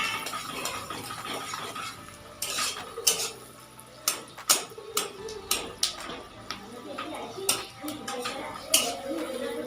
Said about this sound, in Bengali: আর পাস্তাটাকে এখন ভালো করে ভেজে নেবো।